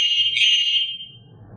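A short, piercing electronic trill imitating a starling from a remote dog trainer beeper collar, high and warbling, lasting under a second before trailing off into quiet background noise.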